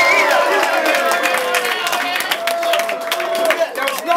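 A crowd at a rap battle in Manchester cheers and makes noise, loud and continuous, with scattered claps and a voice shouting over the din.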